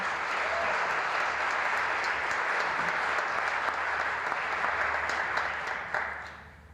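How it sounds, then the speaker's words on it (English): Steady, dense applause from an audience at a community celebration honoring Rev. Martin Luther King Jr., held at an even level for several seconds and then tapering off at the close, with no talking over it. "Ava and Ellis deserve one more round of applause."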